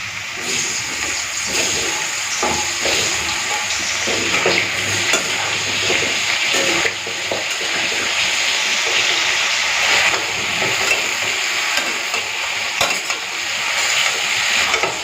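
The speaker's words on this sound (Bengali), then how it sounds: "এরপর পটলটা ভেজে নিই, তারপরে কলমি শাকটা ভেজে নেব" Pointed gourd (potol) fries in hot oil in a pan, giving a loud continuous sizzle and hiss for a long stretch, with occasional stirring scrapes.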